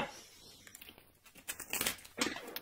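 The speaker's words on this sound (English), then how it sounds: "There's a terrible shuffle." Tarot cards being shuffled by hand, a close run of soft papery flicks and riffling bursts that build up toward the end, with no talking.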